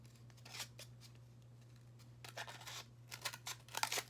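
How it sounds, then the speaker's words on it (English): Scissors snip through a styrofoam cup in several short, close crunchy cuts, spaced unevenly and then quickening into a cluster of snips near the end. "So I'm going to take my scissors."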